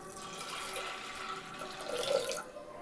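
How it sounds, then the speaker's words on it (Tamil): Water is poured into a pressure cooker onto washed toor dal in a home kitchen, a soft, continuous splashing trickle that swells briefly near the end, fairly faint and close. "இப்போ இதுக்கு தண்ணி சேர்த்துக்கலாம்."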